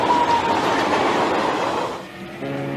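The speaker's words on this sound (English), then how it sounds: "Tanks and other heavy equipment are moved in by train from Poland." A train hauling tanks and heavy military equipment rumbles past with a steady rolling roar, then eases into a quieter stretch where faint tonal wheel squeal rises.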